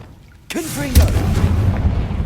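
A Confringo explosive spell cast in the Hogwarts Legacy video game bursts with a sudden loud blast and a rumbling tail, over a low game-music bed.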